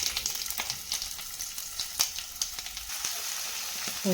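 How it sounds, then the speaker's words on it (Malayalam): Sardines frying in hot oil with curry leaves in a pan, a steady close crackling sizzle with scattered sharp pops throughout. "എണ്ണ ചൂടായി അതിലേക്ക് ഇത്തിരി വേപ്പറ ഇട്ട് കൊടുത്ത് അതിലേക്ക് ചാള പൊറുക്കി വെച്ച് കൊടുക്കും"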